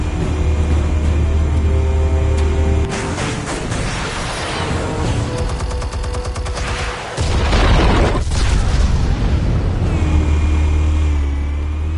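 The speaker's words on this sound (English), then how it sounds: "Explosives armed. Fire when ready." Explosives detonating in a Batman game: a burst of heavy booms and crackling blasts erupting over a steady low mechanical rumble, loud and close, with the din settling back to the droning hum afterward.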